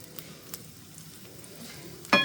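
Onions frying in a pan in a Pakistani-style arvi gosht kitchen, a faint steady sizzle under a few light clinks, ending with a sudden louder clatter of a utensil against the pot.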